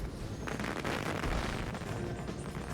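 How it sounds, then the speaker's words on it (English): Loud fireworks in the Disney Infinity video game, a dense run of booming blasts and crackling bursts rolling one into the next at high volume, with no talk. "Some loud fireworks."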